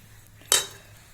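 Stirred vegetable fried rice is tipped into another vessel with a single brief clatter of metal utensil against pot, close and crisp, then a quiet tail.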